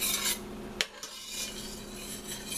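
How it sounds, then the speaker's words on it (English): Chopped garlic sizzles in a pan as the base for a chicken pot pie, a steady crackling hiss with clinks of a utensil stirring against the pan and no talking. "I'm going to let that garlic just sizzle for a minute."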